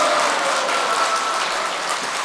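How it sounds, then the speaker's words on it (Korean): A concert audience claps continuously, a dense even wash of applause that stays full and loud from start to finish with no voices. "그런 의미에서 박수 한번 주시기 바랍니다."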